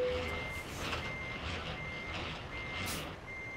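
Steady electronic reversing beeps from a big rig backing up to hook an articulated trailer in American Truck Simulator, repeating at an even pace over a low engine rumble.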